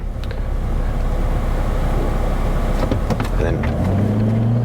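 Car pulling away from a standstill with the foot straight onto the accelerator, heading up to 100 km/h: a steady cabin rumble of engine and road noise that swells into a rising drone, with a voice speaking briefly over it.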